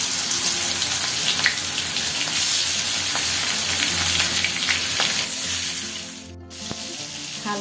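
Fish frying in mustard oil with salt and turmeric, a steady close sizzle and crackle with a brief dip near the end.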